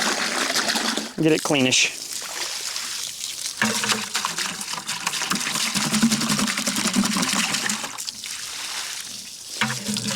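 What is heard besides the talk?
water rinsing out a 5-gallon bucket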